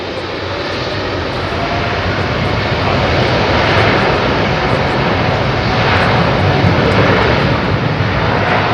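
A Boeing 747-8 jet airliner at London Heathrow Airport gives a loud, steady broadband engine roar that holds for the whole stretch and swells slightly in the second half, with no voices.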